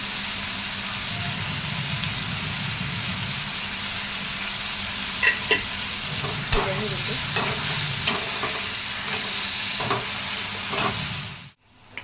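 Tomato masala with salt for a cabbage curry fries in a pan, giving a steady loud sizzle with scattered spatula scrapes and clicks, ending in an abrupt cutoff.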